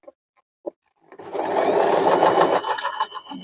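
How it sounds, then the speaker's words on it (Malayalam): An Usha Janome Allure DLX sewing machine stitching with silk thread, a couple of soft clicks and then a loud, steady whirring run of close motor and needle noise lasting about two seconds, with no talking. "നമുക്കൊന്ന് ജസ്റ്റ് സ്റ്റിച്ച് ചെയ്ത് നോക്കാം."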